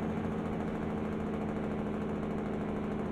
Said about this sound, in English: Get my engine brake going.